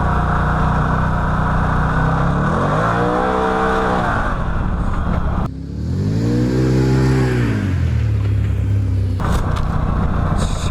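A 2013 Can-Am Maverick side-by-side engine revs hard while driving, rising and falling through two long loud sweeps with a steady roar between, close and dominant with no talk.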